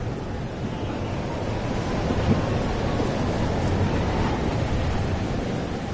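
Thunderstorm with rain in the video game Life Is Strange: Double Exposure, a steady broad wash of rain with low rumbling thunder swelling faintly midway, continuous and fairly loud.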